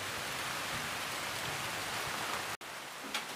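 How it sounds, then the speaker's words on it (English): Steady rain falling outdoors, a dense even hiss of drops that briefly cuts out near the end before resuming, with no one speaking. "Rain kinda come in."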